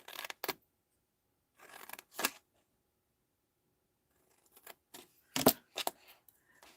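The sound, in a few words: scissors cutting card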